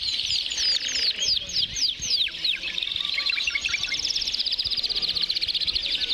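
Domestic canaries sing together at an international canary-breeding competition held in a sports hall, a loud, dense chorus of rapid trills, warbles and chirps that runs without a break.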